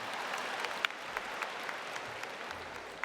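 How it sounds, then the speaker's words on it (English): A university spring commencement audience breaks into applause, a continuous patter of many hands with a few sharper claps standing out, heard from a distance in a large venue. "You really need to give an applause for that one."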